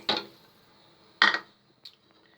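Tamarind and dried plums drop into a grinder jar in a home kitchen, two sharp clattering knocks about a second apart followed by a faint small tap, then quiet.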